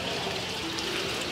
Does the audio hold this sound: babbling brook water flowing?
yes